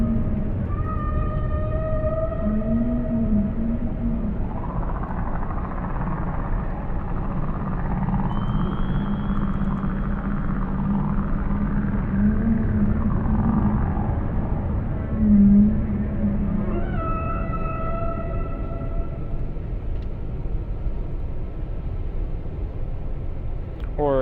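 Whale calls picked up on submarine sonar in the naval game Cold Waters, a long series of low drawn-out moans and tonal wails over a steady underwater rumble.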